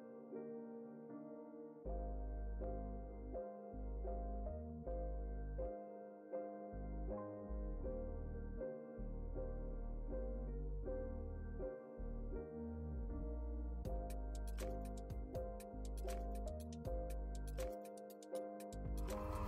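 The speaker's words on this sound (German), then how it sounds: "das Brummen, was ihr hier gerade hört, ist das normale Brummen meines Kompressors." A workshop air compressor runs steadily with its normal low hum, continuous and fairly quiet throughout, with faint ticking or clicking sounds layered over it and brighter crackly noise toward the end.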